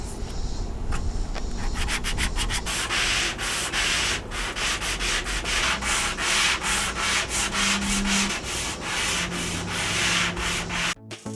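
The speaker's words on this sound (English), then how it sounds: "After I had finally sanded everything to my little heart's content" A solid wood coffee table is sanded by hand with steady back-and-forth strokes. The gritty rubbing is loud and close and runs continuously in an even rhythm, with no voices.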